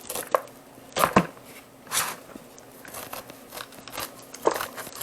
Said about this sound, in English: So cut off the bad end and then cut it down off the cob.